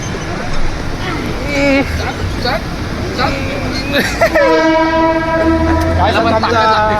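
A train rumbles past with voices talking over it, then a loud, sustained horn blares repeatedly through the second half.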